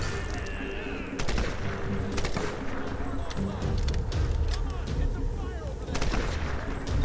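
Sustained gunfire in the video game Tomb Raider (2013), with repeated sharp shots and bursts over a dense, loud battle din lasting the whole stretch.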